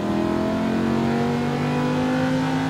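A Lamborghini Huracan engine accelerates hard on a track, holding a loud, steady roar with strong rising harmonics for the whole stretch, close to the car.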